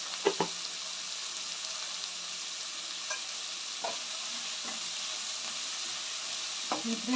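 Onions fry in a pan with salt for lemon rice, giving a steady, even sizzle throughout, broken by a few brief scraping stirs of a spoon against the pan.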